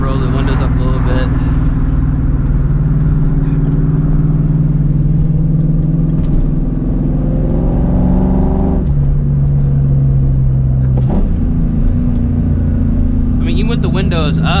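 A 1999–2004 V8 Mustang GT's deep exhaust rumble drones steadily from inside the cabin with windows up while driving, rising with occasional revs, with a person talking over it.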